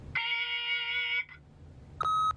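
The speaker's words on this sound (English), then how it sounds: "leave a message at the beep" Answering machine beep in The Wolf Among Us game: a sustained electronic tone lasting about a second, then a shorter higher beep after a brief pause, fairly quiet.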